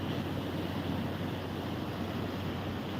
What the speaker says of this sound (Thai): ลมทะเลมันแรง